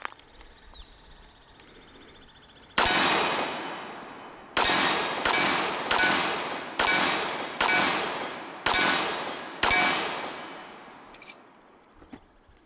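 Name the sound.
SIG Sauer Select 1911 pistol firing a magazine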